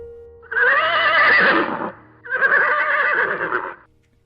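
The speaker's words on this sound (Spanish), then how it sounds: "Segundos después, supo que se trataba de un hombre a caballo." A horse neighs loudly and close by in two long whinnies, each about a second and a half, separated by a short pause, with a faint low rumble underneath and no voices.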